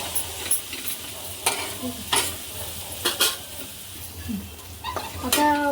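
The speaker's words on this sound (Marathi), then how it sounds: "चांगले हलवून घेतले आता हिला पाच मिनटं आपण असं वाफेवर शिजून घेऊ" Okra bhaji being stirred in a pan, with a soft sizzle throughout and several scraping, clinking spoon strokes against the metal, close and fairly quiet.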